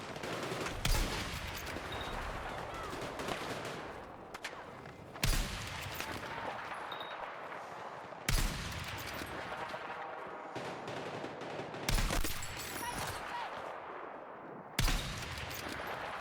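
Gunshots ring out in the video game Battlefield 6, five sharp loud reports spaced a few seconds apart, each trailing into a long echo over a constant battlefield din.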